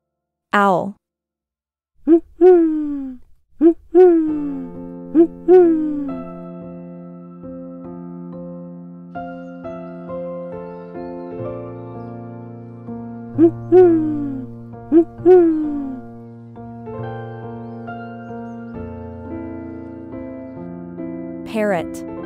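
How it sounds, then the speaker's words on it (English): Owl hooting in a sequence of bird calls, with repeated hoots and harmonic calls sounding clearly and fairly close, interspersed with other tonal bird-like notes over about twenty seconds. "Owl."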